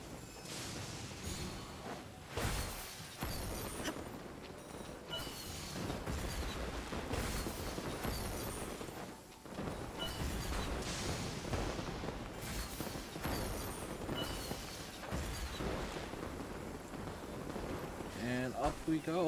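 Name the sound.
fireworks in Genshin Impact video game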